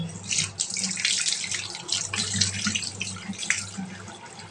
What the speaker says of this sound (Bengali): শাড়িগুলো এখানে ভিজালাম শাড়িগুলো শুকিয়ে তুলে রাখবো